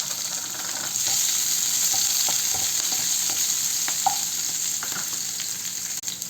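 Chopped onion, garlic and chili frying in a pan, giving a steady loud sizzle throughout with a few faint stirring clicks and scrapes underneath.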